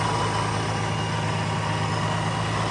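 A Nissan 350Z engine fitted with a Vortech supercharger idles steadily, a constant low hum with a faint whine above it and no revving, heard up close.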